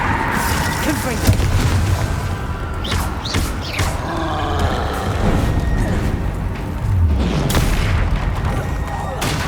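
Deep booms and crashing blasts from the Confringo fire spell in Hogwarts Legacy on PS5 go off amid dense spell-combat noise, with a voice talking over the steady roar.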